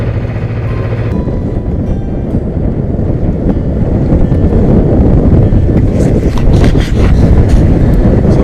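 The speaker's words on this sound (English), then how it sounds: "And oh, wind." Strong wind buffets a sailboat moving at about seven knots on a cold day, a loud, heavy, continuous rumble of gusts battering the microphone, with no talking over it.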